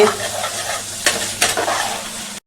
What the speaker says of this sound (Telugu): ఇవన్నీ బాగా కలుపుకోవాలి వంకాయ ముక్కలో బాగా కలవాలండి